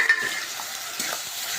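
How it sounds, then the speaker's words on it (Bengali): Tomatoes and a ground spice paste fry in a pan with a steady broadband sizzle, close and even, broken by a few soft stirring scrapes and taps. "এবার ভেজে নেব।"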